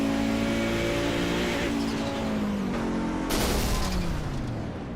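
Race car engine failing during an iRacing replay of a vintage sports car race at Montreal: a loud, continuous engine roar with falling pitch as the revs drop, then a harsh rough burst near the end, heard alone.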